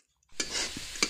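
Food stirred in a pan with ghee: after a brief silence, a close sizzle rises with a couple of short scraping strokes over about a second.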